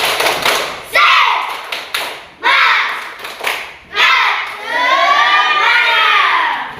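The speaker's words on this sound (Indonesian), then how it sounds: "Tepuk semangat" Children in a classroom perform a rhythmic spirit clap, several loud bursts of claps with chanting voices, ending in a sustained shouted cheer.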